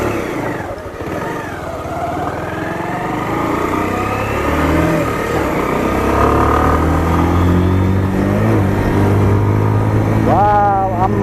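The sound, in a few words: Pulsar motorcycle being ridden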